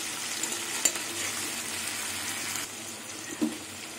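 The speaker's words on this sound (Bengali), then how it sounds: "মশলা দিয়ে কষিয়ে নিলাম, তেল ছেড়ে দিয়েছে" Masala frying in oil for a catla fish curry, a steady close hiss and sizzle with a couple of soft stirring knocks, no talking.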